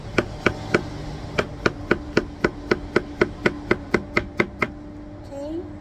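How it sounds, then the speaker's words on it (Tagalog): A knife chops steadily on a wooden board, about fifteen sharp evenly spaced knocks, close and crisp, ending in quiet handling noise. "Excuse me for the noise. Ganyan talaga, guys. Chopping board maingay."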